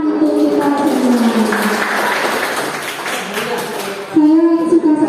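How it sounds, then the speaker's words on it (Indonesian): A room of people clapping together at a teachers' workshop, a dense wash of applause mixed with voices and a rising tonal sound, fairly near and loud. "Tepuk tangan untuk kita semua"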